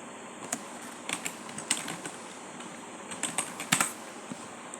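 Fingers type a message on a computer keyboard, producing irregular clusters of crisp keystroke clicks in short bursts separated by pauses, close and clear, with no voices.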